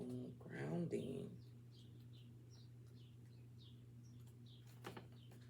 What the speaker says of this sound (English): Y'all hear them birds outside?